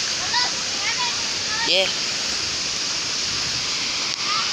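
Tinuy-an Falls waterfall roars nearby as a steady, loud wash of spray, with a few high chirps above it and a single short spoken word partway through.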